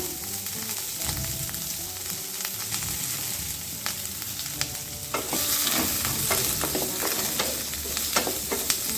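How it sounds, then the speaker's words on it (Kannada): Onions and spices fry in a pan for an onion gravy, a steady sizzle with frequent clattering stirs and scrapes, growing louder and busier halfway through; no one speaks. "ಈರುಳ್ಳಿ ಕೂಡ ಚೆನ್ನಾಗಿ ಫ್ರೈ ಮಾಡ್ಕೊಳ್ಳೋಣ"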